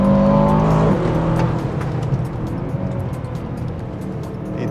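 An Aston Martin DBX 707 SUV accelerates hard, its engine note loud and close at first, then settling into a steady, slightly softer rumble with road roar.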